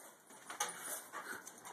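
A dog gives faint, thin whimpers in short broken bursts over a quiet background, with no speech.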